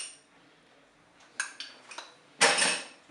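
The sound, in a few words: stirring mustard into béchamel sauce in a pot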